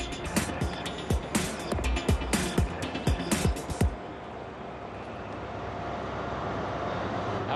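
Rhythmic clacking of train wheels over rail joints, close and loud for about four seconds, then fading into a steady low rumble and hum, as heard at King's Cross station in London.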